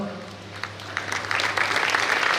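Audience applause at a community felicitation ceremony, rising from scattered claps into steady, building clapping over a low hum, with faint voices mixed in.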